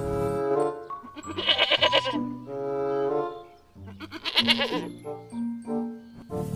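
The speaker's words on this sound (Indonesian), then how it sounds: "Wow, ini hewan domba." Sheep bleating loudly and close in two long wavering calls, with a faint tinkle in between and no talk.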